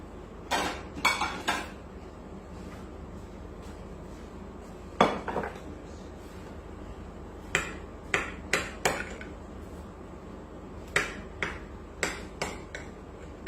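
A knife cuts into a baked butter bread pudding, making a series of sharp clinks and taps of metal against a dish in short clusters, fairly close but quiet, with no talk.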